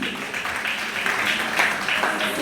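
An audience applauds at a charity gala in the DRC, a dense wash of many hands clapping at moderate distance, steady and sustained, with a voice faintly audible underneath.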